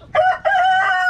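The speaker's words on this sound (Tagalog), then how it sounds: "Yan yung mga manok." A Rhode Island chicken lets out two loud, close, harmonic calls in quick succession, the second drawn out and sustained, with nothing else audible.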